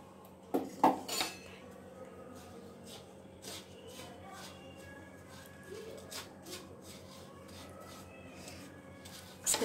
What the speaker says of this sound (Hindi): अब इसको इसके अंदर मिक्स कर लेंगे।